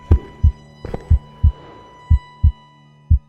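Deep, thudding heartbeat pounding in close, loud pairs of beats over a low hum.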